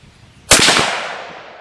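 A single sharp rifle shot, a Norma Whitetail 6.5 Creedmoor load fired at a 100-yard target, cracks loudly after a near-silent pause and then rings out in a long fading echo across the range.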